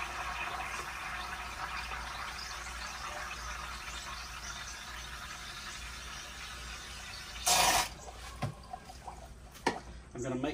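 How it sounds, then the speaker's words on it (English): Water is poured into a swimming pool pump to prime it, a continuous splashing, filling flow heard close up for several seconds, followed by a few sharp handling knocks. "Next, I'm going to add some water so I can prime this pump."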